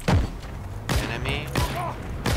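Gunfire in the World War II shooter game Heroes & Generals: three sharp, loud shots with booming low thumps, spaced evenly about seven-tenths of a second apart.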